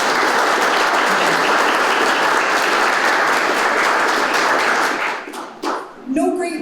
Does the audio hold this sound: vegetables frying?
no